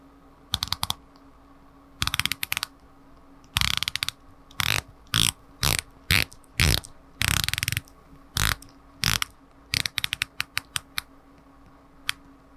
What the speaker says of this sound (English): It turns unidirectionally like a dive watch is supposed to, and let's go ahead and see how it sounds.